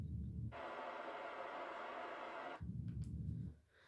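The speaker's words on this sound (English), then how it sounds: "it will bring out a white noise type sound" A Sony HT-MT500 Bluetooth soundbar with wireless subwoofer plays its test signal: a steady, loud hiss of white noise lasting about two seconds, framed by deeper rumbling noise from the subwoofer before and after.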